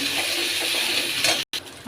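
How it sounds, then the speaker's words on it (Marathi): Water poured into a hot pan of chutney tempered with mustard seeds, cumin, red chillies and curry leaves gives a steady, close splashing gush that runs about a second and a half, then breaks off abruptly. "थोडंसं पाणी टाकू।"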